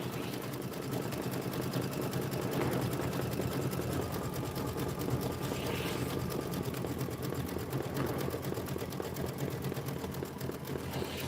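An embroidery machine stitches a wide satin stitch on a winter home design, its steady, close mechanical whir and rapid needle chatter running continuously throughout.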